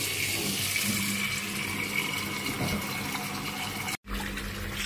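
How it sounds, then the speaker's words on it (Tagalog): Tap water runs in a steady, close rush as raw pork feet are washed in a sink. The flow continues, with one very brief cutoff near the end, and no one speaks. "hugasan ko na siya. Ngayon hugasan nila natin."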